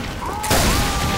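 Rocket launcher in Team Fortress 2 fires with a sudden loud blast halfway through, a whistling projectile tone trailing after over busy game noise.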